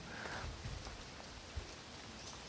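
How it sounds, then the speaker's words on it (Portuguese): Light rain in Aratuba, Ceará, a steady soft patter of drops on surfaces with a few slightly louder nearby drips, continuous and fairly faint throughout, no voices. "Chuvinha boa aqui em Aratuba, Ceará."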